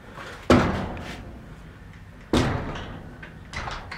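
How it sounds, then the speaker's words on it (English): Barn stall doors in a farm barn slide and bang shut, two loud close impacts about two seconds apart, then a softer third thump, each trailing off into quiet room noise with no talking. "I do not know how to close these doors."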